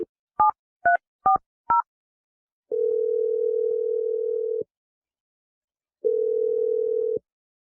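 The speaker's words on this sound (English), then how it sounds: "I'm going to dial Teresa's number if you're ready" A telephone keypad plays a quick run of five dual-tone dialing beeps, loud and close, followed by two long steady ringback tones separated by a pause.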